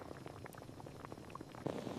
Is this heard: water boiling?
yes